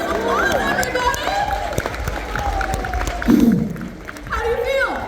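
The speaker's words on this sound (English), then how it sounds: "Round of applause, everybody!" Audience applause and cheering rise at a science museum explosion show, mixed with crowd chatter and a presenter's voice, the clapping swelling midway and then thinning out.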